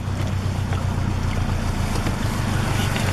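A Subaru Forester splashing through a brook off-road, heard as a continuous rushing of water and engine drone with buffeting wind noise, loud and close throughout.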